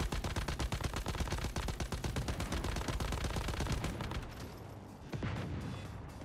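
Rapid automatic gunfire from weapons in the video game Once Human fills the clip with a dense, loud stream of shots. The firing slows and thins near the end, with a final burst coming in alone.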